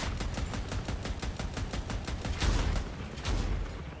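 AC62 Therm autocannon firing rapidly in Crossout vehicle combat, a steady rhythmic stream of heavy punchy shots, roughly four per second, loud and continuous with a brief thicker burst near the middle.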